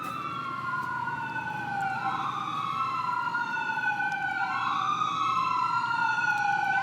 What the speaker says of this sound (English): Hear the fire trucks or fire or police cars, whatever they are.